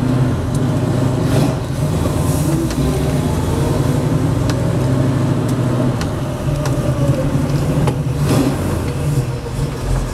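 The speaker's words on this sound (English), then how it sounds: "I'm going to take you for a ride in a 68 Camaro" A 1968 Chevy Camaro with a 502 cubic-inch big-block and 5-speed rumbles steadily while driving, a deep continuous drone with road noise and no letup, heard from inside the car.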